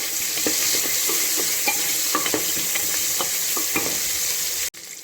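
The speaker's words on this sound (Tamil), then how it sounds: "சோம்பு, வெங்காயம், பச்சை மிளகாய் இதெல்லாம் போட்டு அது கூட கருவேப்பிலை இதை போட்டு நல்லா வதக்கிட்டு" Fennel, onion, green chili and curry leaves sauté in a pan, a steady loud sizzle with spatula scrapes and clicks throughout that briefly cuts off near the end.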